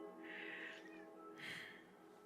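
A kitten lets out two soft, thin meows in a quiet room, close but faint, the second cry rising a little higher than the first.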